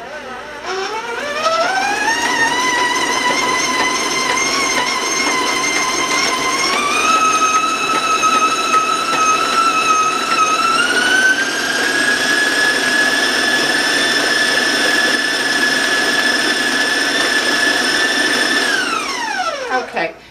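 An electric stand mixer creams yellow cake batter on high speed, a loud whining motor that rises in pitch as it spins up, holds a steady high drone with small speed shifts, then winds down at the end.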